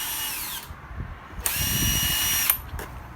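A power tool zipping off bolts during a 2.4L Ecotec timing chain change, two loud close bursts of high whirring spin with a brief gap between, ending in a short third whir.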